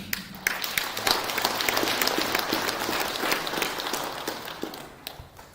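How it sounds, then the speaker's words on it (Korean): Congregation clapping at a Buddhist Sunday service, a dense round of applause with sharp individual claps that swells, holds, then tapers off toward the end. "박수 좀 많이 보내주십시오."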